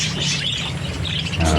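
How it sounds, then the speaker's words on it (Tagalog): Bird calling close by in a domestic setting, a few quick high chirps and squawks over a low background hum, brief and fairly loud. "Yan na yung ibon natin."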